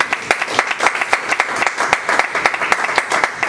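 A church congregation applauds in praise of God, a dense run of rapid overlapping claps, loud and steady throughout.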